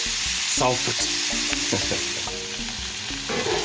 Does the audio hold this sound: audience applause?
no